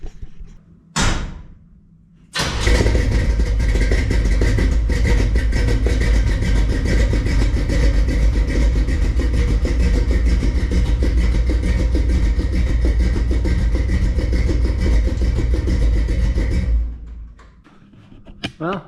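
A car engine runs steadily at close range for about fifteen seconds, driving out from under a DIY camper shell set down on its jacks, preceded by a brief thump and fading out at the end.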